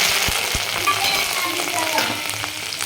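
Cumin seeds and curry leaves crackling in hot oil for a spicy chivda, a steady close sizzle with a few sharp pops near the start and faint spluttering throughout.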